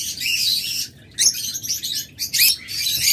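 Opaline lovebirds chirp in bright, rapid bursts, with several close overlapping calls and a brief lull before the twittering resumes. No voices are heard.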